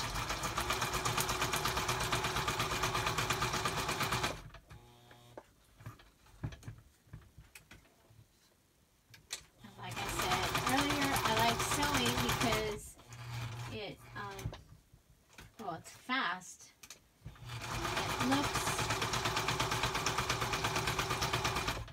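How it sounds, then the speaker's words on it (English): A sewing machine stitching printed paper ladies onto lace runs in three loud, steady bursts of fast mechanical whirring, separated by quieter pauses holding small handling clicks and a voice talking. "So first I'm going to sew the ladies onto this piece of lace."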